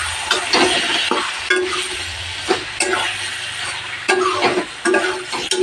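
A ridge gourd and potato curry sizzles in a pan while a utensil stirs and scrapes it in irregular, close, fairly loud strokes, with clicks and knocks against the metal.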